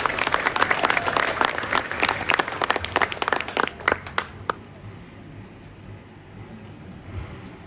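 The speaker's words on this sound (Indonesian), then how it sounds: "Mari kita tepuk tangan." Applause at a ceremony marking a health college in Tana Toraja becoming Institut Toraja Raya Indonesia, with dense clapping that thins into scattered claps before fading to quiet room tone.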